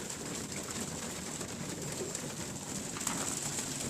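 Young racing pigeons feeding after a two-hour flight, crowded without enough troughs, give a steady low cooing murmur throughout, close and continuous, with faint rustling and no talking.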